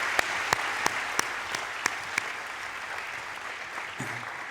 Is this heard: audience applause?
yes